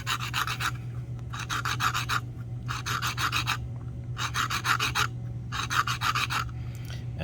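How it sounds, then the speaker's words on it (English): Copper pipe ring sanded by hand with 80-grit sandpaper, five rhythmic bursts of close, bright rasping strokes separated by short pauses over a steady low hum. "I'm just going to hit it with the 80 grit a little bit to get rid of the real rough stuff"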